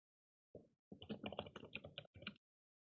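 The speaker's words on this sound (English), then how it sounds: "I can hear you typing." Bursts of typing on a computer keyboard during an online work call, quick clusters of clicks with short pauses between them, faint and close, with no speech over them.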